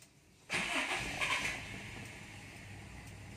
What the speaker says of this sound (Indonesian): Kita tes starter.